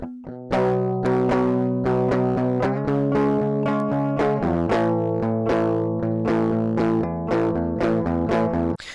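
A loud electric guitar plays sustained, heavily distorted chords with a gritty, clipped edge, changing every couple of seconds, replicating the guitar tone of a song.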